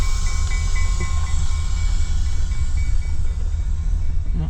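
Freight train cars roll past nearby with a steady, heavy rumble and a faint metallic squeal.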